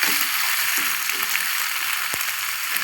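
Marinated soya chunks fry in a pan over a slow flame, giving a steady crackling sizzle with faint ticks and one sharp click near the end; there is no talk.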